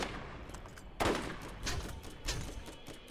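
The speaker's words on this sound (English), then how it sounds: "I like the fire rate on this weapon" Weapon fire in the video game Borderlands: a sharp loud shot followed by a few more bursts spaced across a few seconds, fairly close, with no talking.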